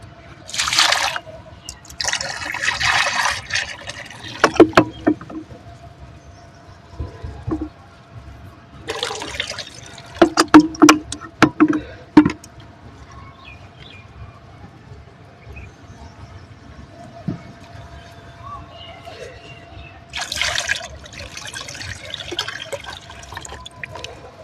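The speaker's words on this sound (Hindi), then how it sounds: "उसके बाद इसमें मैं डालती हूँ पानी।" Water is poured into a container in short bursts, splashing and trickling at close range between pauses, with occasional knocks and clatter in the quiet gaps.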